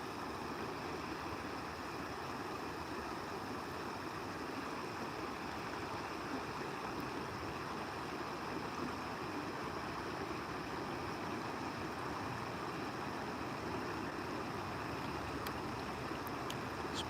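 A stream flowing steadily beneath a train trestle, a constant soft wash of water with no other sounds breaking through.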